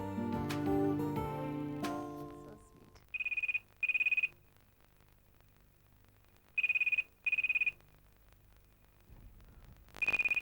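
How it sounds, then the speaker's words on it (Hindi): A telephone rings in short electronic bursts, two pairs of rings plus the start of another, fairly loud, after a stretch of music and low background sound. "अब घंटी बज रही है तो फोन भी मैं उठाऊं"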